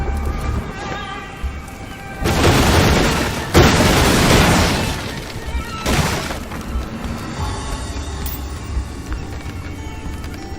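Destructible objects blow apart one after another in a chain reaction set off by the Inflame spell in Graven, with several loud booming bursts and shattering crashes over a steady background hum.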